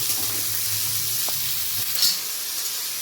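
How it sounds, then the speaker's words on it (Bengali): Peanuts fry in a pan with a steady close sizzle and soft hiss, moderately loud and continuous, with a faint clink partway through and no talking. "এবার এগুলোকে ভালো করে একটু ভেজে নেব"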